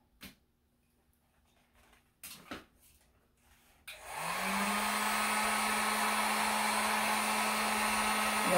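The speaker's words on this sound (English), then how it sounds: "Because this heat gun is hot." A heat gun starts up after a few faint clicks and handling sounds, then blows hot air steadily onto a wine bottle being prepared for sublimation, a loud continuous whoosh with a low hum that runs to the end.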